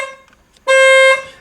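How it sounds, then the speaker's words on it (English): A single car horn blares in one steady, loud blast of about half a second with a buzzy, harmonic-rich tone that sounds off, following a brief quiet stretch. "I want to show you guys this fool's horn because it's not supposed to sound like this"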